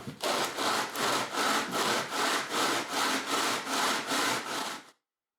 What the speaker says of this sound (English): I want to just go ahead and smooth everything down, make sure everything's level by radiusing it a little bit more.